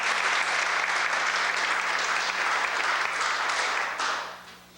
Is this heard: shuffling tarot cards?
no